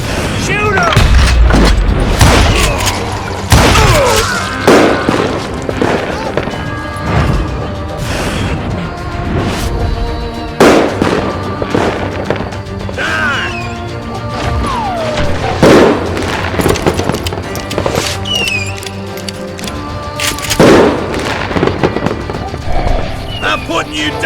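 Gunfire in the Western video game Call of Juarez: Gunslinger, with sharp shots and heavy booms scattered irregularly amid horse clip-clop, whinnies and shouting voices.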